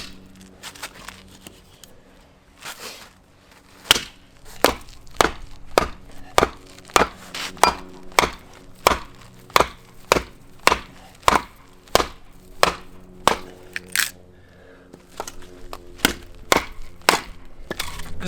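A knife blade chops repeatedly through super twisty maple wood, about fifteen sharp, evenly spaced impacts landing close and loud, with quieter scraping and handling sounds before and after.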